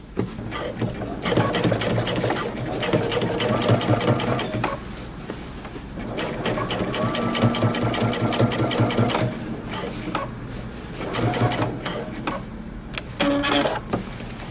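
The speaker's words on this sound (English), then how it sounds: "now I'm going to continue my top stitching where we had stopped close to the edge through the crotch" Sewing machine topstitching denim jeans near the edge through the crotch, a fast continuous mechanical whirr in long runs separated by brief pauses.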